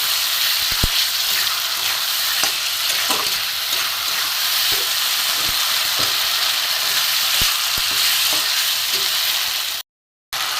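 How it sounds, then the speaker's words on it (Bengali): Chicken pieces sautéing in oil in a pan for chicken dal, a loud constant close sizzle with occasional scraping stirs and light knocks, cutting off abruptly near the end. "একটু ভালো করে কষিয়ে নেব"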